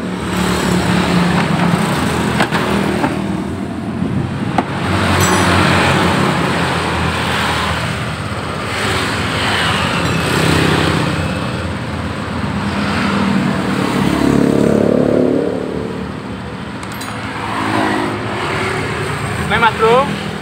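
A Honda Vario 125 motor scooter engine idles steadily close by on a cold engine, with a low continuous rumble and some faint background noise throughout.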